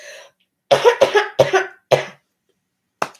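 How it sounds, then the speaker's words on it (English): A brief breath, then four harsh coughs in a quick cluster, followed after a pause by one short final cough, close and fairly loud. "I got the serious coughs."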